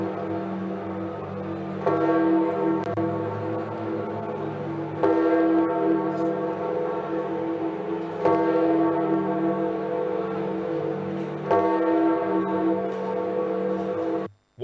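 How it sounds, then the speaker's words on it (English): Church bells toll across Rome at St. Peter's Basilica for Pope Francis's funeral in a slow, steady sequence, each heavy strike ringing out and sustaining into the next, loud and resonant with no talking. "church bells tolled across"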